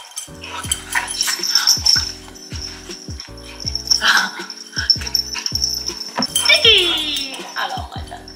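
Several dogs whimper, yip and whine excitedly at close range in a home with hard bare floors while someone talks to them, their cries rising and falling in short, overlapping bursts.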